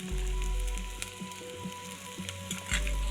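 Shallots, green chili and garlic sizzle and crackle in a hot pan while being stirred, a steady close frying hiss with scraping taps of a spoon and no talking.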